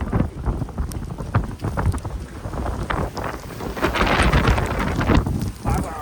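Strong gusty wind on the world's highest road buffets the microphone in loud, uneven roaring bursts that build toward the end.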